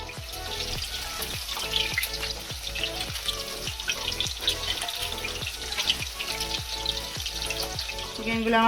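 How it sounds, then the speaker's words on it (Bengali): Chicken pieces deep fry in hot refined oil in a kadai, a loud continuous bubbling sizzle with rhythmic crackling pulses throughout. "তেলের মধ্যে আমি এক এক করে এগুলো দিয়ে ভেজে নেব"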